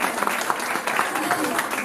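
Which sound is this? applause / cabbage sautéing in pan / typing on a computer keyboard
applause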